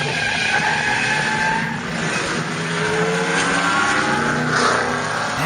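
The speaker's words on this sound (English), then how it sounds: "green flag and the racing begins" Race cars at full speed in an endurance race, engines roaring steadily together with tire squeal as the field runs close by, loud and continuous throughout.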